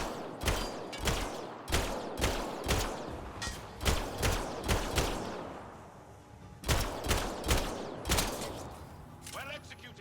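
Gunfire in the video game Mass Effect Andromeda: bursts of sharp, punchy shots in quick rhythmic clusters, a short lull, then another rapid volley, with a trailing tonal effect at the end.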